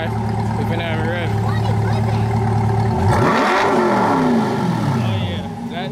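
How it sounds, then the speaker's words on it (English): A Chevrolet C8 Corvette fitted with a new exhaust system revs loudly nearby, its steady idle rumble swelling into a sharp rising and falling rev near the middle before settling back, with voices talking over it. "We're gonna have her start the car and rev it for you guys so you guys can hear it."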